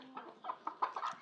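A hen clucks in a rural village yard where a single chick follows her, a series of short, soft clucks in an uneven rhythm, close by and fairly quiet with no talk.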